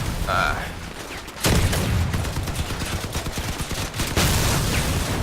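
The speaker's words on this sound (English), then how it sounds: "We found some enemies to shoot at, and we did not hit them." Vehicle-mounted guns firing at enemies in the combat game Crossout, rapid repeated shots in dense bursts with heavy booming impacts, loud and close throughout.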